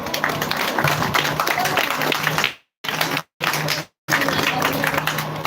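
Applause at a handover ceremony of a WASH facility to a Roman Catholic primary school, a dense burst of hand clapping from a crowd that breaks off in short gaps and resumes loudly.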